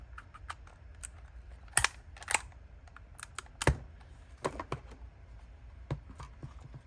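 An old card-cutting machine slices paper in a craft session, producing sharp irregular clicks and snaps with a few louder cutting strikes, close and dry against a quiet background.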